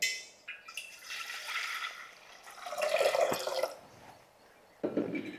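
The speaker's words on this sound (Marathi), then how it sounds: "आता आपल्याला ह्याच्यात हे पाणी ओतायचं आहे" Water splashes and trickles into a metal vessel in uneven bursts, a steady pouring stream with a few louder gushes, close by and without talk.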